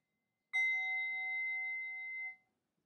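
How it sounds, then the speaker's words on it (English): A single bell is struck once and rings out clearly, a bright metallic ding that holds steady for nearly two seconds before fading quickly, with no other sound around it. "when I ring the bell"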